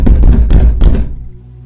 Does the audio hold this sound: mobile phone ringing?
no